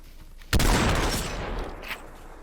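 Gunfire in the VR battle royale game Population: ONE, a sudden loud burst of shots that starts abruptly, rumbles and decays over a couple of seconds, with a fainter crack following.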